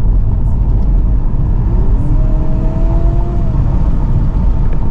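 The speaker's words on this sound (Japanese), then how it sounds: "さあ出口に向かってエンジン全開。" Honda Civic e:HEV hybrid engine revving hard at full throttle while accelerating out of a corner, a steady loud droning rumble with rising pitch, no voices.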